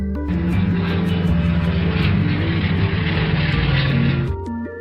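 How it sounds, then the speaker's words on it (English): A toy airplane's small motor whirs and buzzes steadily, its pitch stepping up and down over several seconds before cutting off, with faint music underneath. "A toy airplane starts to operate."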